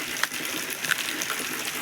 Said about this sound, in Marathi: तिकडं पाणी गळत स्लॅबचं पाऊस आणखीन थोडा थोडा चालू आहे